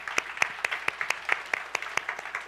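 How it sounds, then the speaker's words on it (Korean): Sparse, distinct claps from a small youth congregation at a church service, about ten separate hand claps spread evenly over a couple of seconds, fairly faint with no voices. "박수 한번 주세요"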